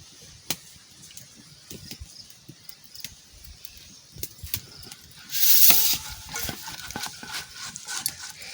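Cooking oil is poured into a hot pan for karela-leaf chop fritters, giving a brief, loud burst of frying sizzle that settles into a softer crackle, mixed with light utensil clatter and stirring.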